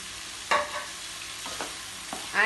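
Capsicum, carrot and cabbage being stir-fried in a pan for chicken spaghetti, giving a few short scraping stirs and light sizzles with gaps between them, fairly close and quiet, with no talking.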